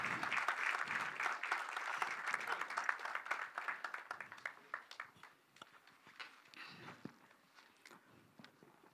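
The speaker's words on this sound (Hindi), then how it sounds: "एक बार जोरदार तालियां हो जाए पूरे परिवार के लिए" Loud applause from an audience at a community gathering in a small Rajasthan village, dense clapping at first that thins into scattered claps and fades toward the end.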